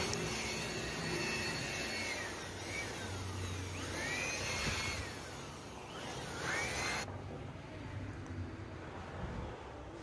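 An air blower hisses steadily as it clears dust from inside a 21-inch TCL television under repair, its tone rising and falling in sweeps before the sound cuts off abruptly.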